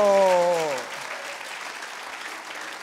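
A church congregation applauds during a pastor's sermon: a sustained wash of clapping that holds steady for a few seconds, with a brief voice over its first moment.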